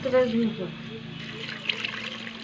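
Water is poured into a cooking pan already holding salt and turmeric, a soft trickling splash heard close, with a voice speaking over it at the start.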